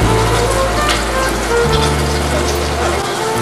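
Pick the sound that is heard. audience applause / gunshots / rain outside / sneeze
rain outside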